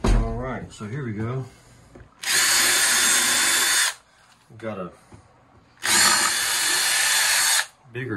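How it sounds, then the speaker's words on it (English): Two bursts of a power drill whirring for about two seconds each as it drives a screw into a brass window stop bead adjuster, with brief speech before and between them. "I'm gonna try putting a screw in with that drill bit."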